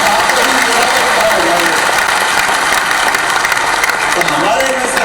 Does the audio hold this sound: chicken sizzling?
no